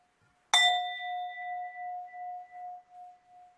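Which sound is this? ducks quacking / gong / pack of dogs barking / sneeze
gong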